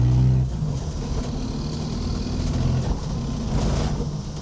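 A rally car engine drones steadily while the car drives a test lap on newly fitted tyres, with a louder burst of revving at the start and again later. It is heard close up, with no talk.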